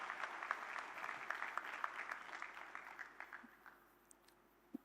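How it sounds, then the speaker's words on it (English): Audience at an SRM Institute of Science & Technology engineering college event applauding senior students: a few seconds of steady, moderately distant clapping that thins out, with scattered late claps. "give them a round of applause"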